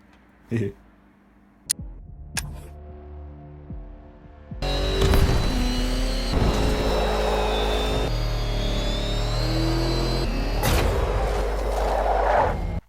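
Self-recorded sounds for a Lego Batmobile in a Batman 1989 film: a few sharp clicks, then a loud steady engine-like rumble with mechanical whine and shifting tones, close and continuous.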